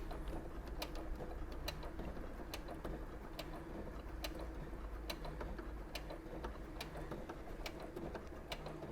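A domestic sewing machine with a compensating foot stitching thin fabric: a steady, quiet mechanical whir with evenly spaced clicking ticks running throughout.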